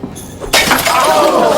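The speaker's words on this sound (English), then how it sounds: "He threw it, smashing a soda bottle, instantly silencing the room." A glass soda bottle is struck by a thrown yo-yo and breaks with a sudden, loud shatter, and bright fragments tinkle and ring away in the moments after.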